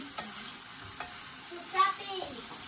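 Ginger sautés in a pan with garlic for chicken tinola: a soft, steady sizzle with a few faint stirring scrapes, quiet and close, no talking.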